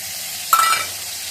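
Ground spice paste hits hot oil already holding bay leaves and fenugreek seeds, letting out a short, sharp sizzling burst close by that quickly fades back into a low hiss.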